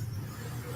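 Supercharged Corvette C5 Z06 engine holding a low, steady rumble, a brief mid-distance burst with no voices over it.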